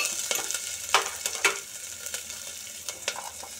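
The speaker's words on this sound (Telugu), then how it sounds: "కొంచెం పచ్చిమిర్చి, కొంచెం ఉల్లిపాయలు బాగా నేతిలో వేగుతున్నాయి కదా." Onions and green chillies frying in ghee in a pan, a steady close sizzle with a few sharp crackles and stirring clatters standing out, no voices.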